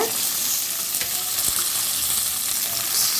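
Small onions sizzle steadily in hot oil in a pan while goat leg paya is being made, a dense, even frying hiss with faint stirring scrapes close by, no voices.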